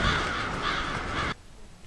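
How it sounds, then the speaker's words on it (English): A rough cawing of crows in the video game Billy Hatcher and the Giant Egg rises for a little over a second, then stops abruptly, leaving near silence. "a horizon of crows turn the sky dark"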